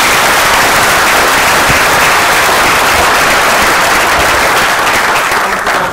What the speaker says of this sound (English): and just give them all a round of applause.